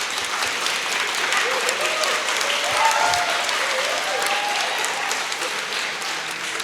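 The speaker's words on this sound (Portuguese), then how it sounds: "uma salva de palmas para Beatriz" Warm, sustained applause from a church congregation at an Easter service, steady clapping filling the room with a few brief voices underneath.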